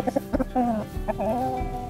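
Black Australorp rooster still in its prime, calling with a few short, loud clucking vocal bursts close by, followed by longer drawn-out tonal calls.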